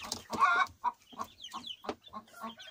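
A large young rooster gives a series of short, close clucks and throaty calls in a loose, uneven rhythm, with no talking.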